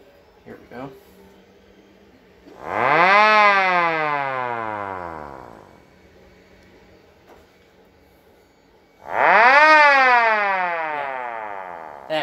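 A mini tornado siren running at low speed indoors, giving two loud rising-then-falling wails, each spinning up sharply and winding down over a few seconds, with a short gap between them; close and very loud.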